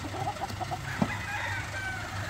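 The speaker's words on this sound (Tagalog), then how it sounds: "Ito na mga boys natin, yung ating mga nanalong manok." A winning fighting rooster calls at a farm in Candelaria, Quezon. Short, moderately close clucking and crowing sounds rise over a steady low background hum.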